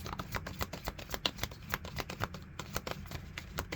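A deck of tarot cards being shuffled by hand in a quiet room, a steady run of crisp riffling clicks and flutters, close and moderately loud with no talking.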